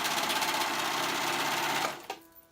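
A sewing machine stitching fabric for an off-shoulder top, running in a fast steady whir for nearly two seconds before stopping with a small click.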